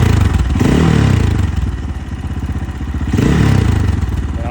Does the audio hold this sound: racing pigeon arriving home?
no